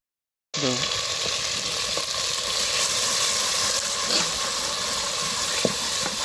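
Sugared sour yogurt hits a hot pan of spices with a loud, steady sizzle and hiss that starts abruptly and carries on close up, with faint stirring clinks and no talk.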